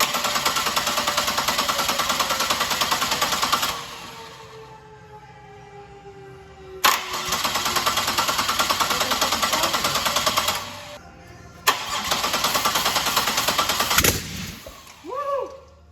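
A Pontiac Fiero with a swapped supercharged 3800 engine fires up, running in loud rough bursts separated by short pauses, with a sharp bang between runs.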